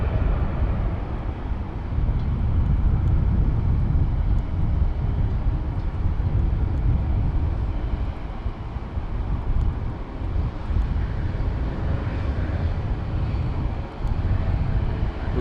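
A JetBlue airliner on the runway at San Juan's Luis Muñoz Marín International Airport produces a broad, steady low engine roar with wind buffeting the microphone, distant and continuous, with no talk.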